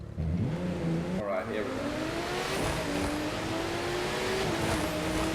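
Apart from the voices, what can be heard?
Porsche car engine revving in video game The Crew 2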